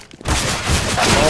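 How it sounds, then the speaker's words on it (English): A flashbang grenade bursts during a CS:GO match on Dust2, a sudden loud blast that rolls into a sustained ringing roar and crackle, with voices over it. "Flashbang!"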